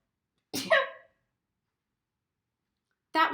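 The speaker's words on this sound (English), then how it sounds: "I'm going to sneeze." A single sharp human sneeze bursts out close and loud, followed by silence and the start of another short vocal sound at the end.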